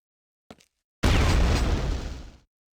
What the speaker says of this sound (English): that was a smaller box than usual, I feel like, and yet it made a bigger boom